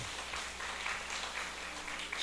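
During a Sunday morning church service, the congregation claps for a deaconess, a faint, distant spread of applause from the pews with no talking.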